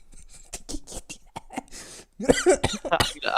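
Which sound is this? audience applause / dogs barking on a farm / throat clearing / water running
throat clearing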